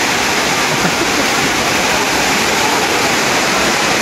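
Floodwater rushing through a flooded street in Ho Chi Minh City, a loud steady broadband roar that holds constant throughout with no voices.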